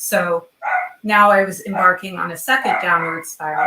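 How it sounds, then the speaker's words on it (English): A dog barks at a chicken that lives on a deck, the short yips and barks mixed in behind a person talking steadily and close up. "that's my dog barking, probably at the chicken that lives on our deck"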